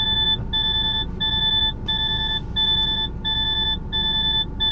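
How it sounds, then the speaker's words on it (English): Low air pressure warning alarm in a DAF XF truck cab, a loud steady beeping tone repeating in regular pulses of about half a second over a low engine rumble. "It's great that it tells you that you've run out of air, but there's no need to be so fucking loud."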